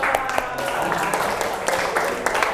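Students in an Islamic studies classroom clap together, a busy patter of many hands at close range with voices mixed in, fairly loud and steady throughout.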